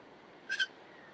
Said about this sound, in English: that was a wattle bird, that sort of harsh, squawky sound